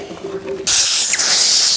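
A spray gun fitted with a large nozzle bursts into a loud, steady hiss as it lays contact adhesive onto foam for a custom door panel, cutting in abruptly after a quiet moment and holding close and constant.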